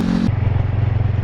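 A motorcycle exhaust rumbles steadily close by, a low throaty drone with some clatter over it and no pauses.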